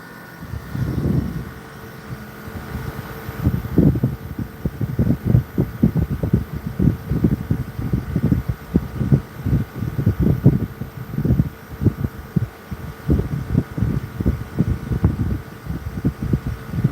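An HVAC blower wheel fan runs with a steady hum, under close, irregular low thumps and rumbles from handling near the unit.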